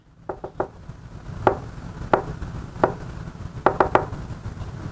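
Knocking tapping out SOS in Morse code, sharp knocks in groups of three, short and long, fairly faint over a low background hum.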